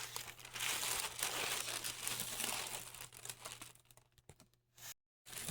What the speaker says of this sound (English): just going to press it down the paper so that the paper would be glued on the frame